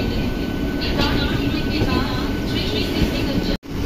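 A train rolling into Tarakeshwar station at the end of the Howrah line, a steady, loud rumble of railcars and wheels running continuously close by, with a brief dropout just before the end.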